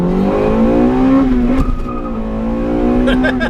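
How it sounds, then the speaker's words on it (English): A Honda Integra Type R engine revs hard and climbs in pitch under wheelspin through first gear, shifts into second with a brief dip, then keeps pulling loudly, with faint tire noise. "where you can spin the wheels in first to second, means that you can spin the wheels"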